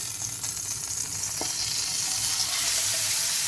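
Anchovies fry in a pan with a steady, close sizzle and crackle, a faint stir or clink once partway through, and no voices.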